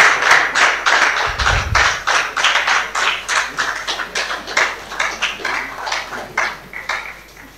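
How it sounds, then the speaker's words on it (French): Audience applause at a diploma-awarding ceremony for a master class, heard as a steady wash of clapping with distinct individual claps throughout and a brief low thump near the start. "Mesdames et messieurs, sur vos applaudissements, s'il vous plaît."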